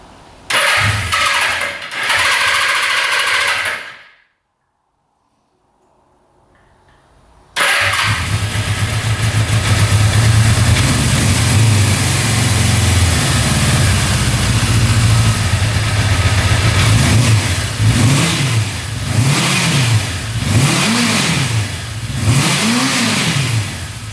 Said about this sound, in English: Let's fire this thing up one more time, see if it revs out completely and get this thing dialed in.